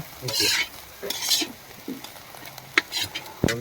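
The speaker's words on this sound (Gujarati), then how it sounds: "આ મિક્સર થઈને મિત્રો આપણે તેલમાં ફ્રાય કરી રહ્યા છીએ" Turmeric and vegetable mixture frying in oil in a pan, heard as close, steady sizzling with repeated stirring scrapes and a few sharp clinks of a utensil against the pan.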